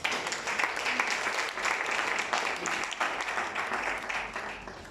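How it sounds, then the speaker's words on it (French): A church congregation applauds steadily for several seconds, a dense, sustained clapping that fills the room at fairly close range. "On acclame la parole ici"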